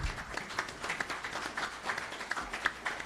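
Applause from a conference audience at a clean-transportation expo, a moderate, even patter of clapping that continues steadily throughout with no talk over it.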